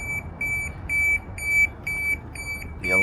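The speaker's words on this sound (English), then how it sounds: "The alarm is going." A hotel pool control panel alarm beeps in a steady repeating pattern of short, high electronic tones, about a dozen evenly spaced beeps over a low background hum.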